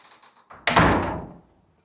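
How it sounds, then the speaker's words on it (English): Door opening in an abandoned former orphanage and hospital, a sharp clunk followed by a decaying rattling scrape that rings out in an empty interior, close and fairly loud, after a few soft footsteps. "So I'm going to go through this door here."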